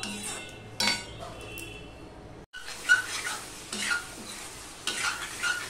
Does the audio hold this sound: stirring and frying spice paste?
yes